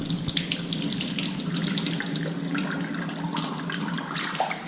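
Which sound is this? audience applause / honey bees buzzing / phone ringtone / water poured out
water poured out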